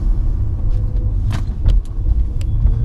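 A BMW E39 540i with a V8 and manual gearbox drives along on a Sunday, its engine a steady, close, low rumble with road noise and a few faint clicks and knocks above it, no talk.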